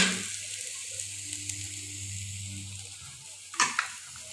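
Sprouted moth beans sizzle softly and steadily in a pan over low heat close by, with a couple of sharp clinks of a utensil near the end.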